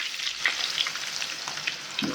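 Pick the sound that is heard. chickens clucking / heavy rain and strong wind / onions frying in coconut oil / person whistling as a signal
onions frying in coconut oil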